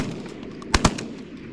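Two quick shotgun blasts ring out during a goose hunt in a flooded cow pasture, sharp and close over a steady outdoor background.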